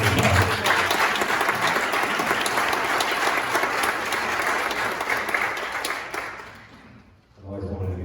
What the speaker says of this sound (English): maybe we can give those 2 a round of applause